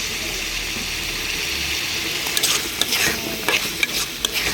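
Potatoes fry in a hot pan while being stirred, with a constant hissing sizzle. Sharp scraping clinks of the spoon against the pan come in irregular bursts toward the end.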